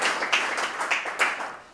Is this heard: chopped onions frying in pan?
no